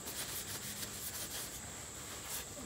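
Carnauba and butcher block wax being rubbed onto a wooden spoon: a soft, continuous, close-up rubbing hiss with faint rhythmic strokes, quiet and steady, with no voices.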